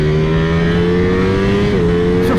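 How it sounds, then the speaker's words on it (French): A Ducati Streetfighter V4 S motorcycle's V4 engine is revved hard on track, a loud sustained high-pitched drone that holds steady, then dips briefly as a gear shifts and climbs again. "J'adore la sonorité de ce V4."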